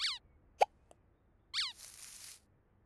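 A cartoon hedgehog gives a few short hiccups: a squeaky chirp, a sharp plop-like hic, a faint blip, then another chirpy squeak trailing into a soft hiss. The sounds are brief and separated by near silence.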